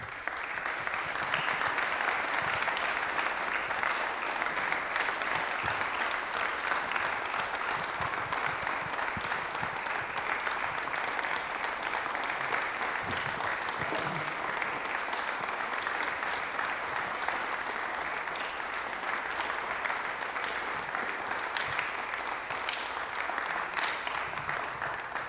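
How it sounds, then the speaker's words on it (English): Sustained applause from an audience at a school awards induction ceremony honoring chapel musicians, an even, moderately distant wash of clapping that continues without a break for the whole stretch. "let us offer them our round of applause"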